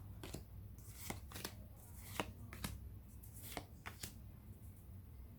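Pokemon cards being shuffled by hand, a series of crisp, irregular riffling snaps and slaps at close range, some spaced apart and others in quick pairs, over a quiet background hiss with no speech.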